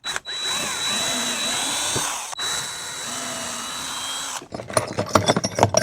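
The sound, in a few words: power drill drilling a pilot hole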